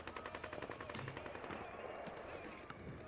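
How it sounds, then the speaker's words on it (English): Automatic rifle fire in Call of Duty Modern Warfare 2, sprayed at range targets: dense, rapid bursts of shots running nearly continuously, loud and close, with a faint voice briefly underneath. "He sprayed bullets all over the damn place."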